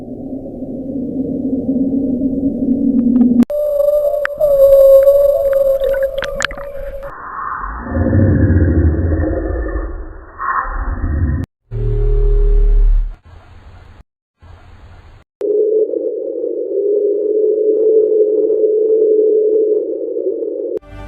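Mysterious low underwater sounds said to come from the Mariana Trench, given as Bloop or Julia: a series of sustained droning tones and rumbles that shift in pitch, with brief breaks between segments, loud and with no talking.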